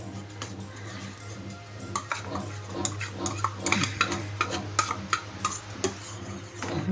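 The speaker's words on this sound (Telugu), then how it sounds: "రవ్వ వేసుకొని ఉండలు లేకుండా బాగా కలిపేసుకుందాం" A spoon stirs semolina into boiling water in a pot while making banana kesari bath, giving irregular clinks and scrapes against the pot over a steady low hum.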